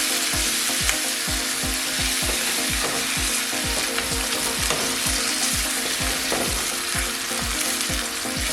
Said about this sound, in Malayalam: ഇനി ഇതിലേക്ക് അല്പം വൈറ്റ് വൈൻ ഒഴിച്ചു കൊടുക്കാം.